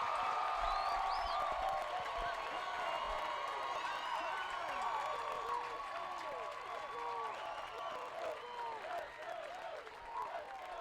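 A baseball stadium crowd cheers and claps after a double to right center field, a steady roar of applause with whoops and shouts from all around that slowly eases off.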